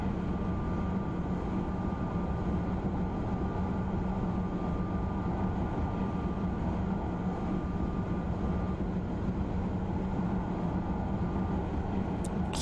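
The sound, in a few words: train driving on LGV Méditerranée in Train Simulator 2016 video game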